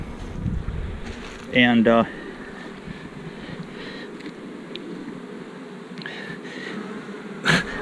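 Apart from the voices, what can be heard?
killer bees buzzing around a boxed hive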